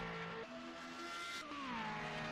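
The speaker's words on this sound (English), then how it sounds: "Nice to see these 90s Formula 3000 cars." 1990s Formula 3000 race cars at Kyalami circuit, their engines droning at steady high pitch with a shifting tone as cars run past at mid distance, no voices.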